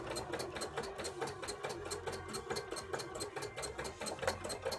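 A sewing machine stitches a small zigzag, its needle chattering in a fast, even, mechanical rhythm, quiet and close, with a low motor whir underneath and no voices.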